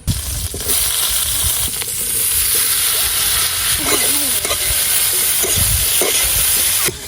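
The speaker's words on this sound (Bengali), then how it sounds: "কলাগুলো ভালো করে কষিয়ে নেব" Raw banana pieces fry in a pan during an outdoor village cook-up, giving a loud, continuous sizzling hiss with stirring scrapes, close up and nearly uninterrupted.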